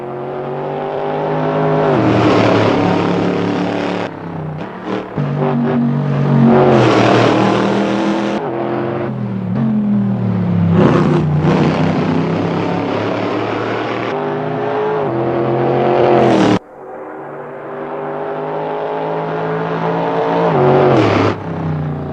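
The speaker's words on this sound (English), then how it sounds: "So this is the Corvette C7.R." Corvette C7.R race car in the Assetto Corsa racing sim, its V8 engine roaring loud and close through repeated hard accelerations, sharp upshifts and lifts off the throttle, with brief cuts in the sound.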